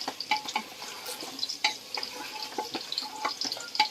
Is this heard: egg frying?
yes